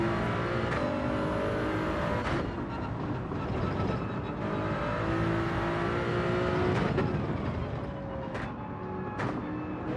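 Toyota Supra race car in Gran Turismo 7 accelerating, its engine note rising and shifting through gears in a steady, loud, continuous roar with other cars audible around it, no talking.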